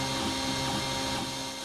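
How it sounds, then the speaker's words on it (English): A 3D printer running steadily while printing plastic ear savers for face masks, a continuous mechanical whir with stepper-motor tones, fairly faint and heard alone without talk. "This is a 3D printer"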